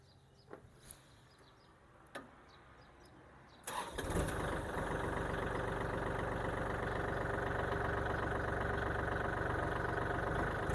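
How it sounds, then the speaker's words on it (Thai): A few faint clicks, then a 32-horsepower tractor engine cranks and catches, settling into a loud, steady rumbling idle that continues to the end. "เดี๋ยวจะทดสอบระบบเครื่องยนต์ให้ได้รับชมกันค่ะ"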